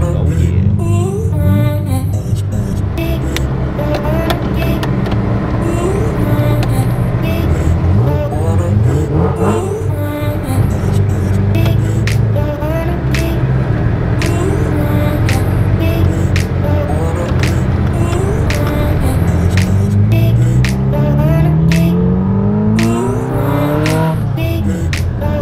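A bagged Ferrari 348ts out on a drive, its engine revving and pulling through the gears close up, loud and continuous, with people talking over the engine noise.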